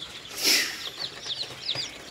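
Day-old kampung Joper chicks chirp in a bright, high cluster, with one loud burst early on followed by rapid, repeated peeping calls close by.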